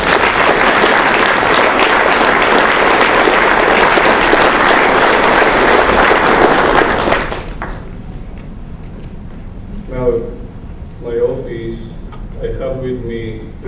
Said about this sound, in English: Can we now also give a big round of applause to the DDG